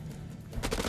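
A short burst of rapid gunshots in House of Ashes, several close loud cracks in quick succession following a quieter moment.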